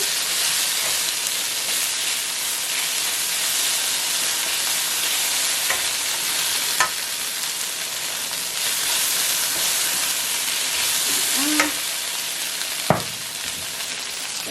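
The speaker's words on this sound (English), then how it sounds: "and saute it for maybe about a couple minutes or so" Fava beans with red peppers sizzle steadily in a hot pan, a loud continuous frying hiss with a few light clinks of a utensil stirring, no voices.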